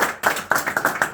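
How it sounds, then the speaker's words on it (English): A small group claps at an awards ceremony, a short burst of close, fairly loud hand claps with a quick uneven rhythm and no talk over it. "Round of applause."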